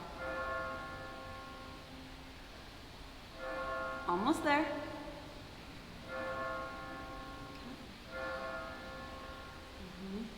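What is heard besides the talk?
church bells chiming at Ancient Spanish Monastery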